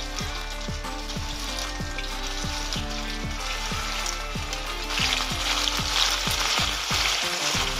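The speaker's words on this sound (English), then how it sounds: "when the oil is hot, start placing them in one at a time" Cypriot köftes sizzle steadily in hot olive oil, a close, constant frying hiss with faint clinks and stirring noises over it.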